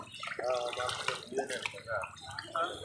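Water splashing and sloshing while freshly caught fish from a drained pond are washed, close and continuous, under people talking.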